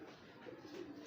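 Soft, low pigeon coos repeat in a steady murmur over a faint background hiss, fairly quiet and unhurried, with no talking.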